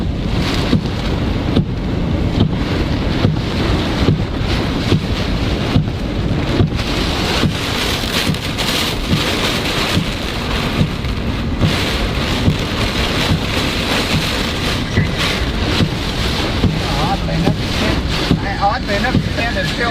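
Strong hurricane winds with rain during Hurricane Wanda in Florida, a continuous loud roar of gusting wind and rain battering close to the microphone, with a voice speaking over it.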